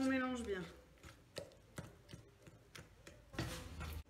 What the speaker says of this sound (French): Et je continue de mélanger avec la fourchette.